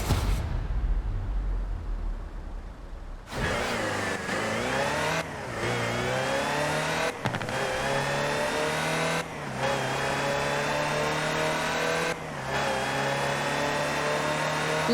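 A Land Rover Type 3 in Forza Horizon 4 revs hard and accelerates through a series of gear changes, the engine note climbing repeatedly then dropping at each shift, loud and close with no talking.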